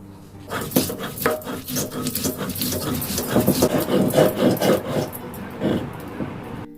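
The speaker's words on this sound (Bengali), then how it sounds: "এবার অল্প করে জল দিয়ে দিয়ে এটাকে একটা পেস্ট করে নিচ্ছি" Coconut, poppy seeds, mustard, green chilli and a little ginger are ground with water into a paste, making close, rhythmic scraping and knocking strokes that grow steadier and louder.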